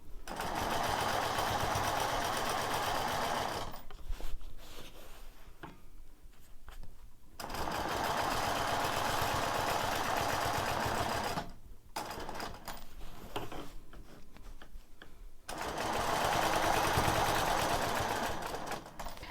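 A sewing machine stitches a square spiral quilting pattern in several steady runs of rapid, even needle clatter, each run separated by brief pauses for turning the fabric.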